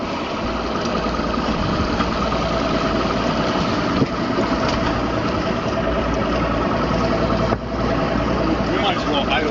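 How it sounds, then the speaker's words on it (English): Boat engine idling on a lake, a steady loud mid-pitched drone throughout with a couple of brief knocks. "We might as well idle this boat back."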